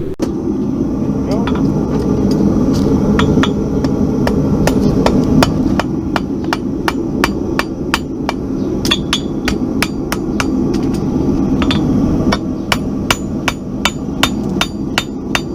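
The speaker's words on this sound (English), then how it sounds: "Do you always draw your clips with a cross peen?" Rapid, regular hammer blows from a cross peen hammer ring on a hot horseshoe while drawing a clip at a forge, sharp clinks repeating close up over a low steady background hum.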